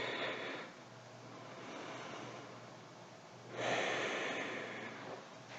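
A slow, full exhale during a beginner chair yoga session, soft airy breath close up, with a second louder breath surge midway.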